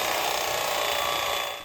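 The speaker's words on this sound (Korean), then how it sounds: "고기를 자르시는데 이런 전기톱을 쓰시더라고요." A 1970s electric carving knife slicing through a home-roasted pork roast, giving a steady, close, buzzing motor whine that holds evenly throughout before easing off at the very end, with no talking.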